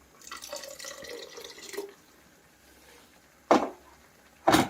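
Water is poured into a pan of cooking radish leaf curry (mooli ke patte sabzi) in two short, fairly loud splashing bursts after a quieter stretch of faint kitchen noise.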